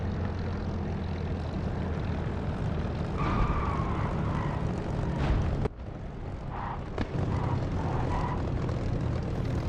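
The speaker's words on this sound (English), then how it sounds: "This is a great engine sound produced not by DCS but by Echo 19." Aircraft engine sound in the DCS flight simulator using the Echo 19 sound mod, a steady loud droning roar with flaps down, with a brief dip and a few tonal whines mid-way.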